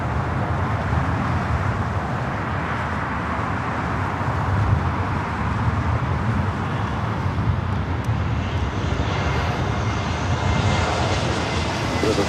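A fixed-wing airliner arrives on runway 24 Right at Los Angeles International Airport, its engines roaring steadily and loudly throughout with a broad, sustained rumble and no talk.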